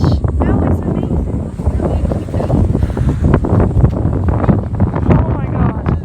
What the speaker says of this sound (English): Can this wind get any worse?